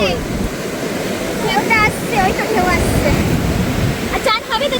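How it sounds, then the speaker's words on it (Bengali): Sea waves break on Puri beach in rough conditions, giving a continuous loud roar of surf with broadband wash throughout, while voices call and talk over it. "আজকে কিন্তু সেই ঢেউ দিচ্ছে দেখো"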